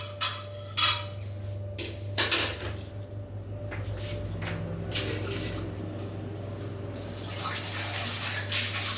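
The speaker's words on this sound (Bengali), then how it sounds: "কড়াইটা আমি ধুয়ে নিলাম" A metal kadai rattles and clanks, then gets rinsed under a running kitchen tap, the water rushing steadily and close for the last few seconds.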